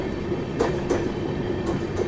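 The 12753 Marathwada Sampark Kranti Express running on rails, a steady rolling rumble with rhythmic clickety-clack wheel beats over the joints, heard from inside the train without voices.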